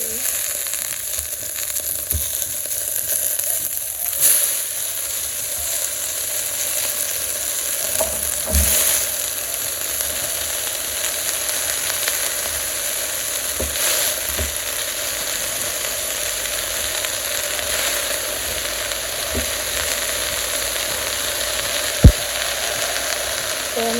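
Greens (shak) cook in a pan with a steady, close sizzle and crackle that runs throughout, broken by a few stirring scrapes and one sharp knock near the end.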